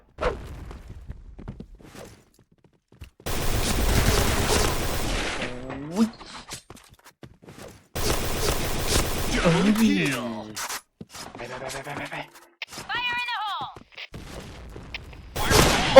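Bursts of rapid gunfire from an AK-style rifle in a first-person shooter, loud and close, arriving in several sustained volleys separated by quieter gaps with short mechanical clicks and reload-like sounds.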